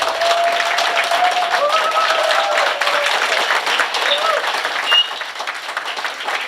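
An audience at a PDCI-RDA tribute ceremony for party pioneers in Yopougon applauding the party's vice-president, a dense, loud, sustained round of clapping with some shouts that eases slightly toward the end.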